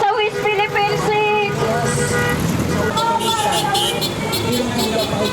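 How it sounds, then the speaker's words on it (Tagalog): Motorists sound car horns at a street rally for the West Philippine Sea, with repeated toots over traffic rumble and crowd babble while a person talks nearby. "hinikayat ng mga grupo ang mga motorista na makiisa sa panawagang ito sa pamamagitan ng pagbusina ng kanilang mga sasakyan"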